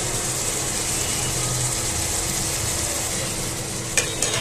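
Gentle stirring of a sand goby fish curry in a pan right after garam masala goes in, a steady sizzling and scraping hiss with a few louder clacks near the end.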